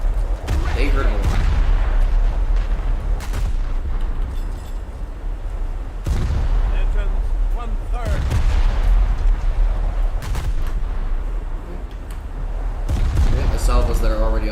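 Naval gun salvos from the battleship USS North Dakota in the World of Warships video game: loud, heavy booms come every few seconds over a constant rumbling background, with a voice faintly present.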